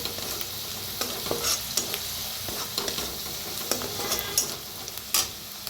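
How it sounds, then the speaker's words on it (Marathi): Onion fried with turmeric and coriander powder sizzles steadily in a pan, with frequent close scraping and knocking stirs of a spoon running irregularly throughout. "धना पावडर 1 चमचा, चांगलं भाजूया"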